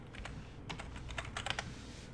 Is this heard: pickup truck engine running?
no